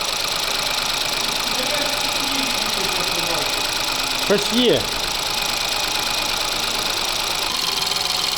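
A Ford three-cylinder car engine runs steadily throughout, a continuous mid-range hum with a brief voice breaking in near the middle.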